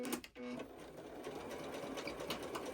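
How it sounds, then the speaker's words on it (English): A sewing machine stitches a straight seam with a steady, continuous mechanical whir at close range, briefly pausing near the start before running evenly. "Just sewing a straight line, super simple, along the bottom and the top."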